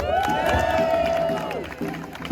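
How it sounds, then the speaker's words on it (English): A crowd at a political gathering in Canal Quarter, Cardiff cheers and applauds for Paul, a loud burst of voices and whoops with a rising shout, close and lively, tapering slightly toward the end. "I want you to give a round of applause for Paul"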